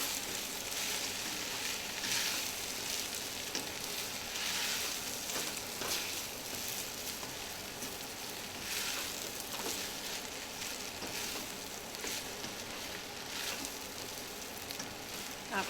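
Chopped vegetables for a vegan corn chowder sizzle and fry in a pan with a steady crackling hiss, joined now and then by soft stirring scrapes, moderately close and without talk.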